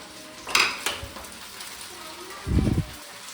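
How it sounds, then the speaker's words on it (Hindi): Cumin and onion tadka for khichdi frying in a pan, with a couple of sharp utensil clinks early on and a short, dull low thump near the end over a quiet background. "इसमें अब लगाएगी जीरे और प्याज का तड़का।"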